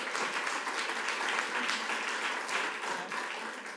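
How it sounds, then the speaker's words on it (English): Audience applause for an award winner at a school board meeting, steady dense clapping filling the room at moderate volume throughout, with no voices over it. "Go ahead and give her a clap."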